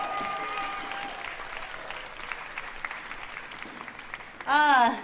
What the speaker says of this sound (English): Let's give them a round of applause to all our graduates.